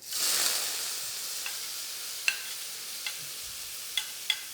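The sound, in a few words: base ingredients for pork stir-fry sizzling in a smoking-hot wok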